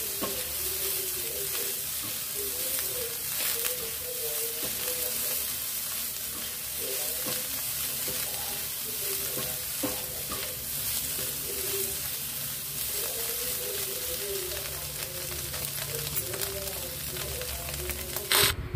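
Soybean chunks fry with salt, a little chili powder and black pepper in a pan, a steady close sizzle with occasional stirring clatter running throughout, no talk over it.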